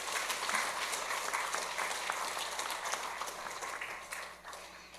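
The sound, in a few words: congregation applause welcoming a pastor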